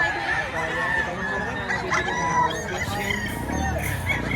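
Gamefowl roosters cluck and crow at a busy poultry market in Padre Garcia, close and fairly loud, with repeated clucks under the murmur of nearby people talking.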